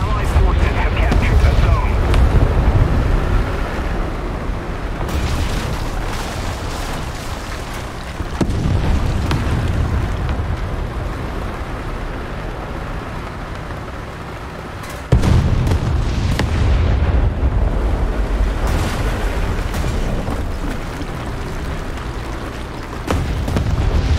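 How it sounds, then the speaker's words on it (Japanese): Artillery shelling and explosions in the War Thunder tank game: heavy low booms and rumbling blasts recur across the scene, with sharp impacts near the start, middle and end, while a voice talks over parts of it. "12時方向から砲撃を確認。"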